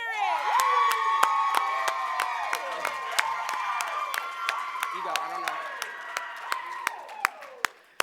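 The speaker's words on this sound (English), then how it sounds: "We love to hear public defenders cheering" Graduating class of public defenders cheering, whooping and clapping at a graduation ceremony, a dense roar of many voices with sharp claps and shouts running throughout, a couple of people speaking briefly within it.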